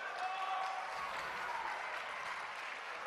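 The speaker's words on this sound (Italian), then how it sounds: "accogliamo ognuno con un applauso, gli ospiti di questo panel" Audience applause at an Italian political party convention as the panel guests are welcomed, steady dense clapping from a large crowd, somewhat distant and sustained throughout.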